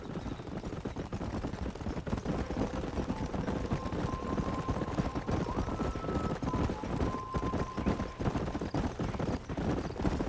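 Horse hooves clip-clop steadily under a dense wash of ambient game sound in Red Dead Redemption, with several horses moving at once and a faint tonal hum drifting through.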